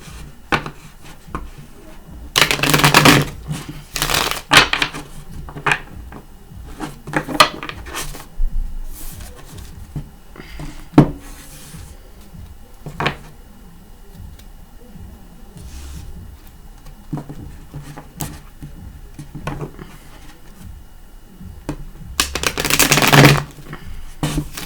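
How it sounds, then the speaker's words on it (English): A Universal Tarot deck is shuffled by hand in several bursts of riffling and card slaps, loud and close, with quieter handling and pauses between and no talking. "I'm going to give a couple shuffles."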